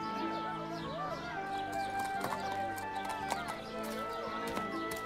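Arabian horses at a market: hooves clip-clop at a moderate pace with an occasional whinny, alongside soft bird calls and a steady tonal background.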